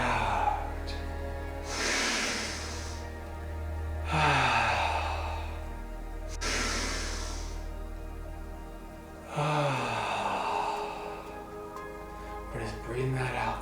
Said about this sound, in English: We're just breathing that out there for us.